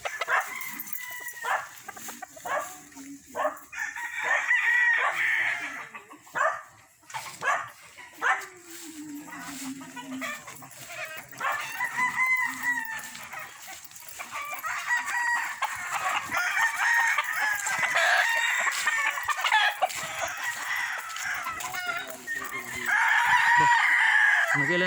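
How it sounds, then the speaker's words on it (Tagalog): Chickens clucking and roosters crowing at a farm where many fowl are kept, with repeated crows and busy clucking, a dog barking in places, and people talking nearby. "Tingnan natin mga manok dito."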